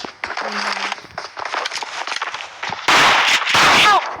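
Bursts of video game gunfire crackle in short irregular volleys, ending in a louder sustained barrage, with faint voices in the background.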